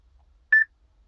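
A single short electronic beep sounds in the cabin of a Tata Nexon EV as its voice command system activates, a clean tone alone in near silence.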